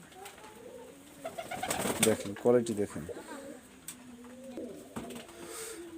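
Two female pigeons coo in a loft, their soft throaty calls rising in a brief burst near the middle, with a wing flutter, while someone talks over them close by.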